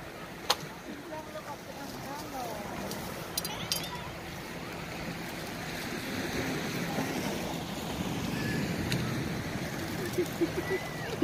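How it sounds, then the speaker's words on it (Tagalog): Ocean waves break on a beach on Lamma Island, Hong Kong, washing and rolling in a continuous swelling roar, with wind buffeting the microphone and a few scattered knocks and clicks. "Biglang lumaki yung mga alon"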